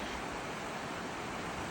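Running water of the Popo Agie river, a steady broadband rushing like white noise, close and even throughout with no voices.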